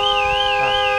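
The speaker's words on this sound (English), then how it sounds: "an alarm going off" Car alarm going off on a Land Rover Defender with a Corvette LS3 V8 swap, a loud, steady wavering electronic whine close by, alone without talk.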